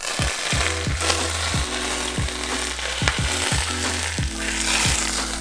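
Egg foo young stuffed with imitation crab, shiitake mushrooms and onions frying in hot oil, a loud continuous sizzle close by with repeated clattering thumps and scraping from the pan throughout.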